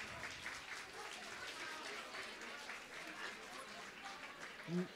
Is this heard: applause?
yes